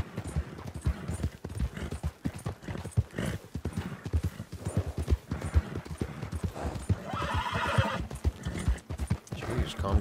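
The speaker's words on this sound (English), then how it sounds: "calm down, horse." A horse in the video game Red Dead Redemption 2 Online whinnies loudly over a steady patter of clip-clopping hooves, with busy background noise throughout.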